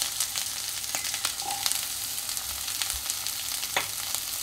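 Onion and ginger fry in oil for a Bengali masala shrimp dish, giving a steady close sizzle with scattered crackles and the scrape of stirring. A brief clink is heard, and there are no voices.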